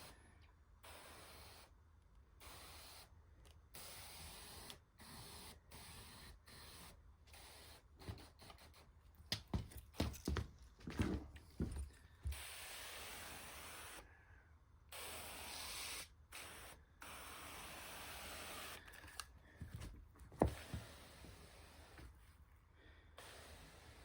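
A hand spray bottle sprays cleaning chemical onto a fabric sofa in sections. Repeated quick, soft misting bursts come at irregular intervals over a low background hiss, some bursts louder and closer than others.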